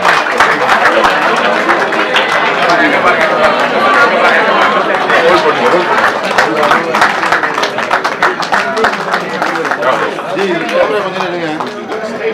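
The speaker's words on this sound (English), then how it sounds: "A big round of applause to the king, the hero of this day." An audience at a felicitation function claps steadily in a dense, sustained burst of applause mixed with crowd chatter, loud and continuous throughout.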